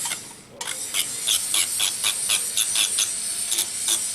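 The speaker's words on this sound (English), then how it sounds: "let's see how this drill bit works" An electric nail drill bit spins steadily on acrylic nails in a close-up nail practice, giving a continuous high whirring hiss broken by rhythmic grinding pulses about twice a second, running alone without talk.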